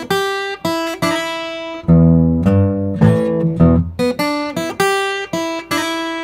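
Delta blues riff on guitar played as straight call and response without a monotonic bass, with short bright plucked phrases answered by lower sustained chords and slides, loud and close.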